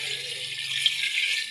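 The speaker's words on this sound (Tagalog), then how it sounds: "Lagyan natin ng tubig." Water pours steadily into a cooking pot for a short stretch, a close, even splashing stream with no talk over it.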